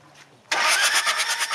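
A flooded car engine, freshly drained of water, catches on its first start attempt after a brief quiet lead-in, bursting into a loud, rough, pulsing run that stays steady and close.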